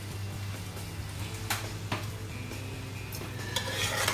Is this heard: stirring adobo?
yes